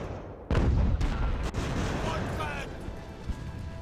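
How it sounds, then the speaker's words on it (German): Cannon fire from a naval battle in the strategy game Ultimate Admiral Age of Sail: several booming shots in quick succession with a rumbling tail, mixed with game noise and talk. "Ballern wir auf jeden Fall noch was mit den Kanonen weg."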